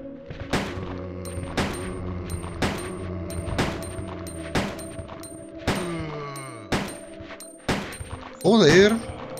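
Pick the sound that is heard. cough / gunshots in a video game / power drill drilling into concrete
gunshots in a video game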